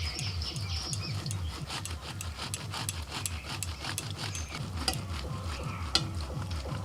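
A whole peeled mango is rubbed against a grater in fast, even strokes, making a steady rasping, scratchy rhythm close by with no talking.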